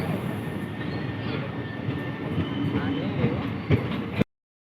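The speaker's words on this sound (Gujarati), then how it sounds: "જો ટ્રેનમાં બેસવા મળ્યા છે." A passenger train runs on rails, heard from inside the carriage as a steady rumbling roar with rattling wheel clatter and a faint squeal, cutting off abruptly near the end.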